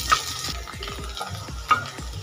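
Drumstick (sajna) pieces frying with salted potatoes in a pan, a soft sizzle under repeated scraping and stirring strokes, with a couple of sharper knocks of the spatula against the pan.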